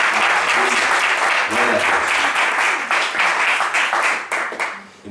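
A church congregation claps steadily in a dense, sustained wave of applause that fades slightly toward the end, with a voice speaking over it.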